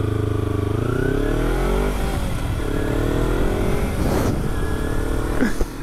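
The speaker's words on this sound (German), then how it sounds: "der hat sich Kopfhörer reingemacht und fährt das mal mit seinem Traktor durch die Stadt" A tractor drives through town, its engine chugging and revving up close with clattering mechanical tones, loud and steady, with a brief rise in pitch as it passes.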